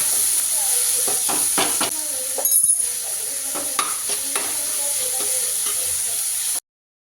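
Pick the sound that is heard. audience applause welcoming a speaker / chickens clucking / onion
onion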